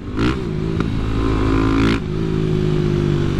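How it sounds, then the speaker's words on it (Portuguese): A Honda CB 300 motorcycle with an enlarged piston revs hard in two sharp bursts over a steady loud idle at a track, close by, with a brief clatter between. "A moto anda muito, mano. Muito mesmo."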